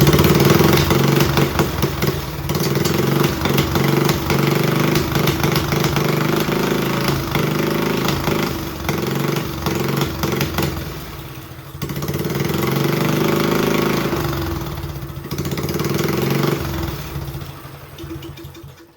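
A 1970s El Tigre snowmobile fitted with an upgraded Predator engine runs steadily up close, a loud clattering idle with brief dips and throttle changes throughout, no voices.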